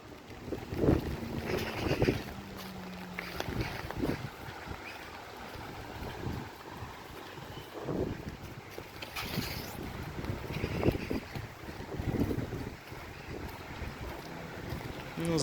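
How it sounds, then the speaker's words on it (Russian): Strong gusty wind during rain in a park in Tashkent, roaring and buffeting close against the microphone in a steady rush with several stronger gusts. "Такой ветер прям сильный, у меня зонт выхватывает"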